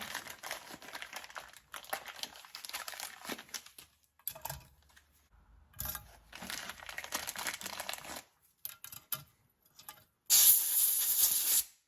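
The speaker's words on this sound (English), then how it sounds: "We're going to blow out any dirt that might be in them." Compressed air blasts blowing dirt off Massey Ferguson 35 tractor engine valve springs from a Continental engine, coming in several short hissing bursts separated by pauses, close and sharp, with the final burst loudest.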